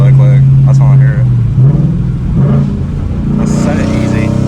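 A Gen 3 Ford Mustang GT with a Coyote V8 idles loud and close, with a quick rev and a rumbling exhaust while people talk over it.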